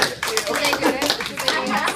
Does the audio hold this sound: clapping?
yes